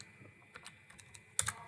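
Light typing on a computer keyboard, a handful of sparse, quiet key clicks followed by two sharper, closer taps at the end.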